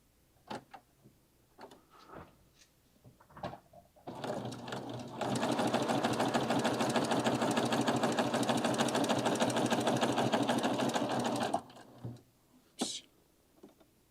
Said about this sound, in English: you're ready to go ahead and stitch your next piece down